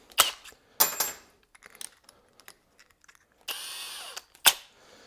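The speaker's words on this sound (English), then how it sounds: "So we're going to put that in the end of the drill." Short bursts of a hand drill whirring as an end mill bores a 5mm hole in a Yamaha T7 KYB fork lug, separated by pauses with small metallic clicks and taps nearby; one longer run of drilling near the end.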